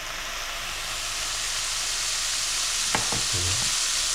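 Bacon lardons and onion frying in a pan give a steady, loud hiss of sizzling fat, with a couple of brief scraping stir sounds near the end.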